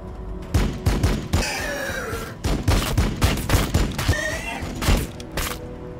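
Gunfire in the strategy game Warhammer 40k Battlesector: repeated heavy volleys of shots and thudding impacts arrive in loud, clustered bursts with short gaps between them.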